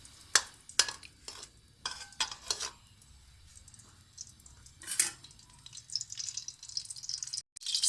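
Six green chillies dropped into hot oil already used for frying onions, cooked for a keema matar pulao, giving intermittent bursts of sizzling with light utensil clinks and stirring, close and without talk.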